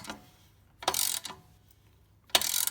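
Tightening the fitting on an Akrapovic link pipe on a Yamaha MT-10: a few short, close mechanical clicks and ratcheting bursts from a hand tool, separated by brief quiet gaps.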